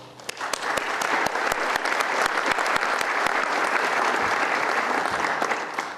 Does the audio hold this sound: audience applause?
yes